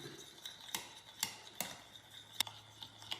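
Egg yolks and salt being stirred in a bowl, a utensil clinking and scraping against the side in a few irregular taps, faint and close with no talk.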